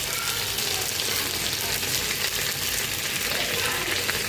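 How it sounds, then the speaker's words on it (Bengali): Chicken fries in a frying pan with a loud, continuous dense sizzle, close by, steady throughout with faint stirring. "আর এখানে চিকেন রান্না করতে হচ্ছে।"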